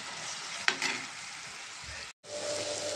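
Tomatoes frying with softened onions in a pan give a steady, close sizzle throughout, with a brief stirring scrape and one short drop-out near the end.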